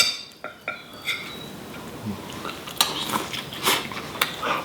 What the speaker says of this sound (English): I also forgot a fork, so I'm going to use the spoon that I have.